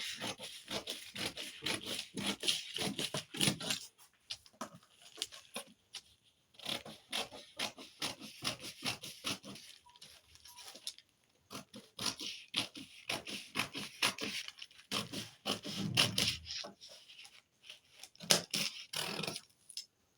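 Scissors snip and rasp through a paper short-sleeve pattern, in irregular bursts of cutting and rustling close by, with brief pauses between strokes and no talking.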